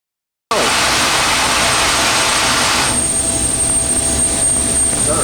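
Steady loud broadband roar of an airliner cabin in flight aboard a Hawaiian Airlines DC-8 at about 35,000 feet, beginning abruptly after a brief silence and continuing evenly throughout.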